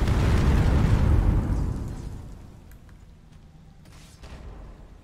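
Heavy explosion boom in Skyrim, loud and rumbling at the start, then decaying into a quieter low roar with a few small crackles afterward.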